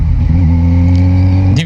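2022 Kawasaki Z900 motorcycle engine running at a steady, loud, close drone, its pitch rising slightly at the very end as if revving.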